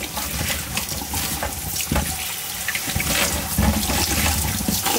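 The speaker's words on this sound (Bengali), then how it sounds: "কচু একবারে ধুয়ে সিদ্ধ করতে দেয়।" Taro being washed under running water, a steady loud splashing and gushing stream with a few knocks and clatters, close by, with no speech.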